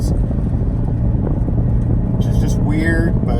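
A car engine and exhaust burble steadily and loudly from the tailpipe, a dense rumble that stays constant throughout with brief noisy bursts near the end.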